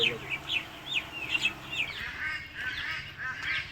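Broiler chickens on a poultry farm cluck and squawk in a busy, overlapping chorus of short calls, close by, with a low hum of the shed and faint talk underneath.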